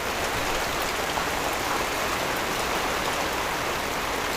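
Steady heavy rain drums on an RV at Cedar Hill State Park in Texas in early spring, a dense, continuous patter with no break.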